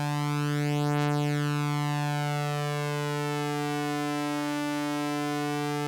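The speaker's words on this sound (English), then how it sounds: "Basically what you're hearing is they're slightly out of tune." Behringer Model D synth oscillators, slightly out of tune with each other, sustain one bright buzzing tone whose beating harmonics sweep in a slow, phasing pulse, loud and alone throughout.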